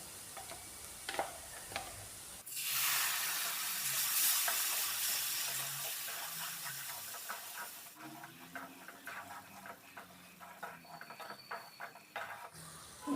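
Ground coconut spice paste for Kerala sadhya inji curry tipped into a hot pan of fried onions and spice powders, with a sudden loud steamy hiss that slowly fades while a spoon scrapes and stirs.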